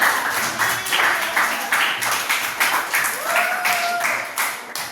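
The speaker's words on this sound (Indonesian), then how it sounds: "Tepuk tangan." Children clap together in an elementary school classroom, several short rhythmic bursts of applause in a repeated chant-like pattern, with voices underneath.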